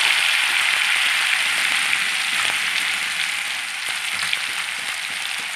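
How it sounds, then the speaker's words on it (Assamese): Onion, ginger and garlic paste frying in oil in a kadai after eggs were fried in it, a steady loud hiss and crackle close by, continuous throughout with no talk. "পিঁয়াজ আদা নহৰু কেঁচা গন্ধটো নাথাকিবৰ বাবে মই এইখিনি অকণমান ভাজি লওঁ।"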